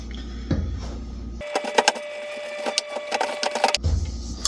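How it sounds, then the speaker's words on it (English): Bread flour and salt being worked into a sourdough mix in a bowl give a busy run of close clicks, taps and scraping that starts suddenly, carries on for about two seconds, then stops. "we're just gonna bring this together in our bowl"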